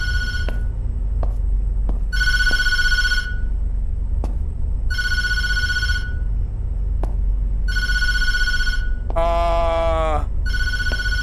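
In the Tattletail video game a phone rings four times in even, loud bursts separated by gaps, followed by a brief wavering electronic chirp, all over a constant low rumble.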